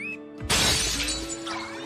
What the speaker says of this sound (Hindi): वो तो टूट गया।